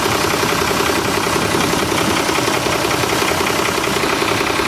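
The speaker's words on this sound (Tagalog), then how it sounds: "Grabe na ang pagka-blow by itong makina na to." A Mitsubishi 6D17 diesel engine worn enough to blow by heavily runs at a steady, loud, rough idle with a dense uniform clatter, close and continuous with no talk.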